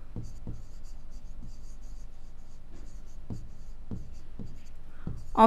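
Writing on a classroom board makes faint scattered scratches and taps in a quiet room, closing with a brief louder knock.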